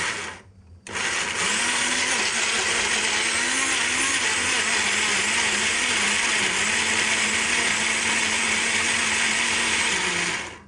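A kitchen blender grinds soup ingredients, including tomatoes and sweet red pepper, into liquid. After a brief quiet start it runs as a loud, steady, close-up motor whir for about ten seconds before cutting off.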